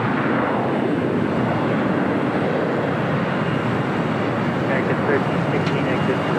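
Cathay Pacific Boeing 777-300ER departing LAX, a sustained heavy jet roar with deep rumbling low end holding steady throughout, loud and continuous with faint higher tones near the end.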